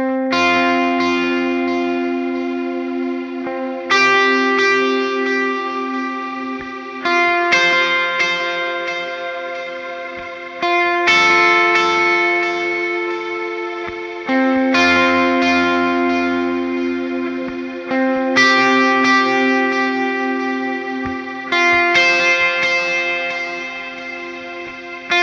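An electric guitar with echo and effects plays the verse of a song: repeated phrases of ringing picked notes and chords, each swelling and fading over a few seconds, loud and clear with no talking.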